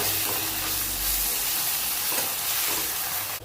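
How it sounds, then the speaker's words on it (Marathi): Cauliflower for gobi manchurian is stir-fried on high flame with onion, soy sauce, red chili sauce and tomato ketchup, giving a loud, dense, steady sizzle and hiss close up with faint stirring scrapes and no voices. "हे परतून घ्यायचं आहे हाय फ्लेमवरती"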